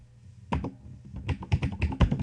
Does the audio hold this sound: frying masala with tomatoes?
no